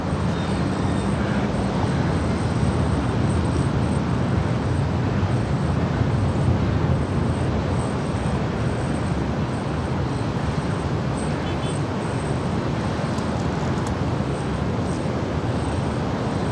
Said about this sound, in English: that is Alaska 282 departing to Liberia.